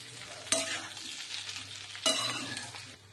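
Moringa leaf dhokla batter stirred and mixed in a pan, a steady scraping swirl with two sharper clanks of the spoon against the vessel, close and moderately loud, no voices.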